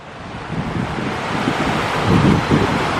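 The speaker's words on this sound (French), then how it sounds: "Comme si c'était une vraie cascade. Donc c'est le vent qui s'engouffre." Deafening wind rushes through a mountain footbridge area in the Hautes-Alpes, a loud, steady roaring gust that swells and surges like a waterfall, close to the microphone with no voices.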